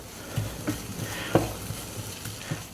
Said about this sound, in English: I suggest to stir it just to make the spinach warm evenly